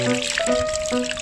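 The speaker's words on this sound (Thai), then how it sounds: "น้ำไหล" Water flows briefly while toy cars are washed, a short steady pour with faint tonal sounds over it.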